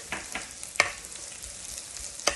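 Mustard seeds, cumin and dried red chili pieces crackle in hot oil as a tempering for yellow dal, a soft close sizzle punctuated by a few sharp pops and stirs.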